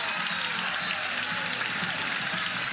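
College softball crowd at Love's Field applauding pitcher Isabella Smith during an Oklahoma vs South Carolina game: steady, dense clapping and cheering across the whole stretch, fairly distant and even.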